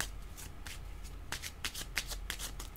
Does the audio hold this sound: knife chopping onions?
no